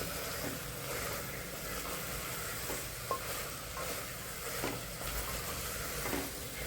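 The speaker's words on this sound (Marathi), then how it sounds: "तेही छान परतून घ्यायचं" Peanuts and soybeans sautéing in a pan, a steady hissing sizzle with occasional soft stirring knocks, close and fairly quiet throughout.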